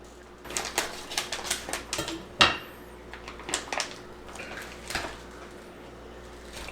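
Plastic packaging around a 3-pound corned beef brisket being opened, a run of quick crinkling, tearing and tapping handling noises at close range, with one sharper snap partway through.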